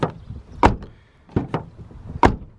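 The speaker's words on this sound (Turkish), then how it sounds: "kapılar tok abi, gayet güzel." Car doors on a diesel Hyundai ix35 are shut several times, giving close, solid thuds with short latch clicks, spaced about a second apart, with no talk.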